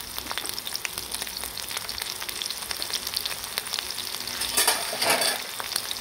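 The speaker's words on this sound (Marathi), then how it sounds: "सो आता तेल छान गरम झाले. आता आपण ह्याच्यामध्ये टाकूयात मिरची." Green chillies and salt frying in hot oil for sabudana khichdi, giving a steady close sizzle with crackling pops that swell louder near the end; no talking.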